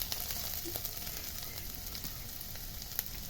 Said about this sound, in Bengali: তেলটা গরম হয়ে গেছে, এর মধ্যে আমি দিয়ে দিচ্ছি রসুন কুচি